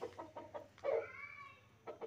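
Hens in a home garden cluck in short, soft repeated calls close by, with one longer drawn-out call midway, quiet against a faint low hum and no talking.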